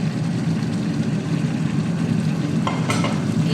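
Mutton stirring in a pan with freshly added mint and coriander, a steady sizzling fry under a low hum, with a brief scrape of the spoon near the end.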